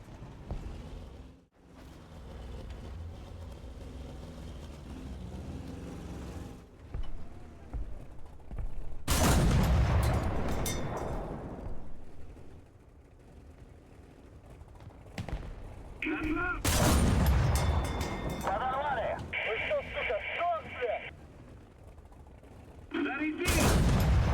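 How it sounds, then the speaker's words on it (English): ZiS-30 tank destroyer gun firing in the game War Thunder, a few loud booming shots with long decaying echoes, spaced well apart over an engine rumble, with someone talking between shots. "Here we can utilize the ZiS-30's fantastic gun"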